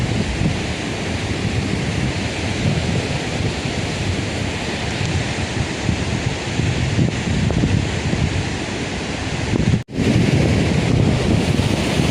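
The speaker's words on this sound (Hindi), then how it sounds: "ये वाटरफॉल है, ये नीचे आ रहा वाटरफॉल का पानी नदी में आ रहा है" A waterfall pours into a river near a bridge, a loud, continuous broadband roar mixed with gusty wind buffeting the microphone, steady for the whole stretch; no voices.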